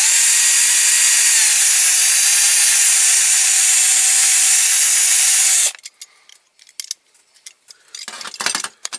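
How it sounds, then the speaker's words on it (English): A loud, continuous high-pitched whine of a power drill boring with cheap drill bits during a toy car transporter restoration runs for several seconds, then stops, leaving a few scattered clicks and knocks. "These are El Cheapo drill bits."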